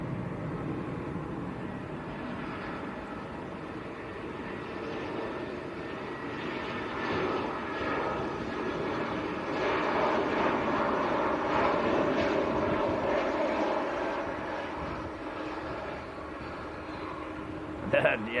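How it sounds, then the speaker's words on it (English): A Finnair Airbus A319 in oneworld livery landing at Manchester Airport after a flight from Helsinki, with a sustained jet engine rumble that builds and fades over the runway and a person talking over the noise. "Next to land, it looks like Finnair. It is indeed an A319 in the One World livery,"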